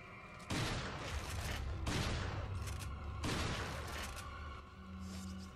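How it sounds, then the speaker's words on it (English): Leon's shotgun in Resident Evil 4 fires three heavy booming blasts a little over a second apart, each leaving a rumbling tail. "I don't know why I'm shooting the shotgun from that very far"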